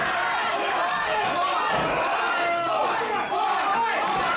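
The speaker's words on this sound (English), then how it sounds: "And you hear how popular he is with the crowd." Wrestling crowd at a PWA event roars and chatters in a dense, continuous wash, with thumps from the ring and a commentator talking over it.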